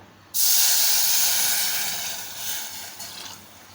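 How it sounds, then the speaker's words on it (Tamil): Water poured into a pan of roasted wheat rava sets off a sudden loud sizzling hiss that bursts in, then slowly fades while bubbling and spitting continue, alone without talk. "இந்த டைமில் வந்து நம்ம தண்ணி சேர்க்கலாம்"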